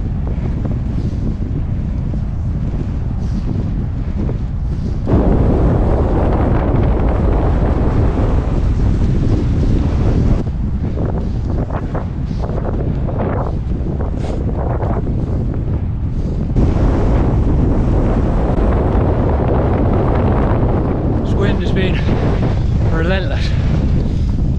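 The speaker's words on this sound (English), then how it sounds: "Wind." Strong, relentless wind roars across a coastal beach on Jersey's south-east shore during a trail marathon, buffeting the microphone with loud gusts and surges, with surf beneath it and a runner's voice breaking through now and then.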